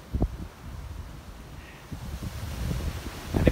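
Wind buffeting a microphone outdoors: a steady, low rumbling roar with soft gusts that builds slightly toward the end, with no voices present.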